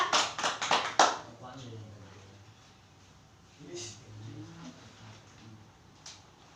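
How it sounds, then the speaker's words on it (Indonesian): Students in a classroom clap for the second group in a brief burst of rapid claps at the start, which fades quickly into quieter sounds with a teacher's voice talking. "Tepuk tangan untuk kelompok kedua."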